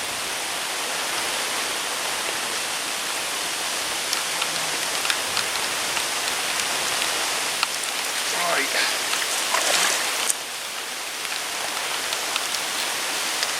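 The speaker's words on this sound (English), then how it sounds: "the rain's getting heavier again" Heavy rain falling steadily at a fishing pond in Devon, a dense close hiss throughout with occasional louder drips and brief rustles near the end.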